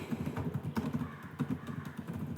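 Typing on a computer keyboard, a quick run of soft clicky keystrokes close by, fairly quiet and irregular in rhythm.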